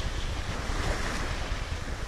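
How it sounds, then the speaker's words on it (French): Short, small sea waves slap a sailboat under way off the Corsican coast after a storm, a steady rushing wash with wind noise, close and continuous with no voices. "Des petites vagues courtes."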